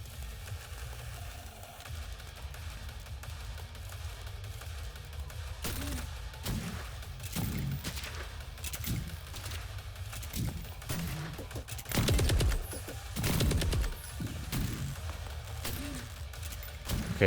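Snipers fire in the tactical game Reverse Collapse: Bakery Girl: a string of separate, sharp shots spaced a second or two apart over a low ambient bed, growing heavier toward the end.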